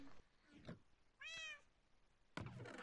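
A cat gives a single short, rising-and-falling meow, quiet and nearby, between soft thumps and light background noise.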